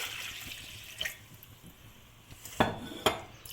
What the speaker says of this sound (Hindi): ये पानी है, सादा पानी ये हम डालेंगे इसके अंदर।